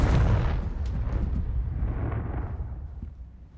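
A Confringo fire spell in Hogwarts Legacy blasts in a loud explosive boom, its rumbling roar slowly decaying over a few seconds with no voices.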